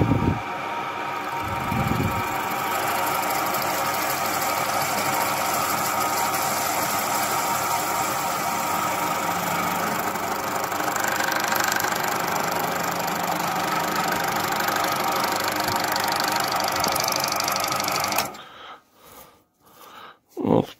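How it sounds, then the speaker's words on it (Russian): Lathe turning a carburetor insulating spacer for a Ural K750 motorcycle, clamped on a chuck; a steady, loud machine hum and whine runs unbroken for most of the span, then stops abruptly into a few scattered knocks. "Так, как на станке я зажимаю, да, протачиваем."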